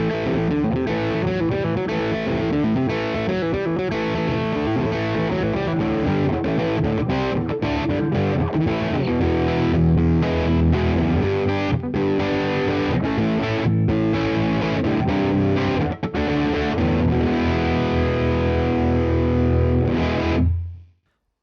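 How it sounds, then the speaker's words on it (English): Electric guitar played through a Neural DSP Tone King Imperial MKII crunch setting, a continuous dirty rhythm part with dense driven chords that cuts off abruptly at the end. "Great, nice dirty crunch, can get a good rhythm going with it, which is what it's for"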